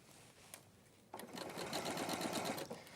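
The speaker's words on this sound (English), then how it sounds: "I'm just going to sew that in." Sewing machine stitching through leather, a quiet start then a steady fast whirring run of stitches for about two seconds before it stops.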